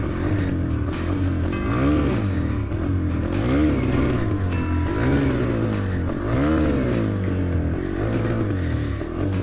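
A cheap dirt bike engine with a faulty carburettor revs repeatedly in rising and falling surges, loud and close, with a rough, uneven note and no talking.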